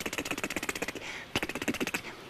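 Fast harmonica articulation using T and K tongue strokes, a rapid even train of short chugging pulses played up close, broken by a brief breathy pause before resuming.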